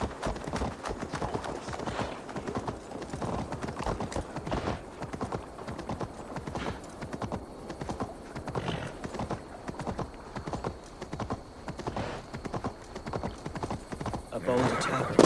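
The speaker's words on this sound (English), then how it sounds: "Stop that horse!" Horse hooves clip-clop in a steady gallop with neighs in Assassin's Creed Valhalla, near and continuous for the whole stretch, with game voices mixed in underneath.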